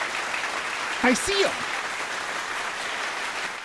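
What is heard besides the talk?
people clapping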